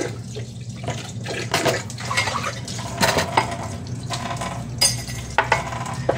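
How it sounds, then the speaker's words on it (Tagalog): Running tap water splashes steadily into a sink while dishes are washed, with soft clinks of plates and utensils close by and no talk. "Running water."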